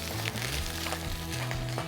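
Fish fillets sizzling steadily in a hot sauté pan, a continuous loud crackling hiss with small bursts of spatter, close up and uninterrupted.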